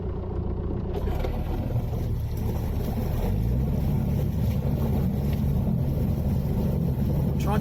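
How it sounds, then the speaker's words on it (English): A narrowboat stuck on sand and pebbles on the River Lee runs its engine and propeller hard, giving a steady, close, low diesel rumble with churning water and some wind buffeting on the microphone. "Trying to use the engine and the prop to wash away the sand and pebbles"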